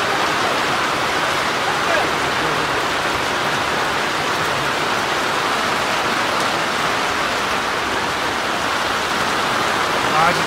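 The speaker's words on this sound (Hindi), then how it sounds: "इतनी तेज़ बारिश हो रही है।" Heavy downpour during a mountain trek to Shrikhand Mahadev, a dense, steady roar of rain hammering around a tent, loud and unbroken throughout with no talk.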